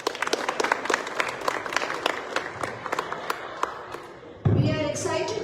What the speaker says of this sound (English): Let's give Mrs. Kamal and the group a big round of applause.